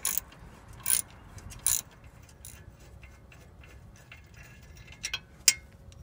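A ratchet loosens a ball joint nut on the upper control arm of a Chevy Trailblazer or GMC Envoy, giving a few sharp, close metallic clicks in separate bursts against a quiet garage background.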